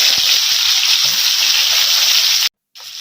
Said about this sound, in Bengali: মাছের মুড়োগুলো ভাজা হয়ে গেছে